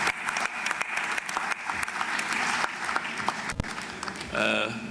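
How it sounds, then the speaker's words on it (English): Audience applauding at the CAF Ordinary General Assembly in Kinshasa, in a large hall for the Prime Minister: dense, steady clapping throughout, close and loud, with a short louder swell near the end. "Can we once more clap hands for our Prime Minister of the Democratic Republic?"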